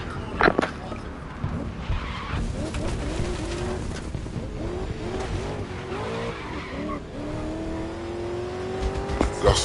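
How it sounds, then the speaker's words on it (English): A race car in the Grid Legends racing game loses control and skids, with a steady loud engine drone, rising tire squeal and scraping through the whole stretch, ending on a climbing engine whine. "Lost all control of the car there."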